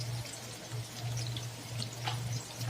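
Water being poured into a pot while cooking chicken dum biryani, a soft trickling splash over a low steady kitchen hum, faint and continuous.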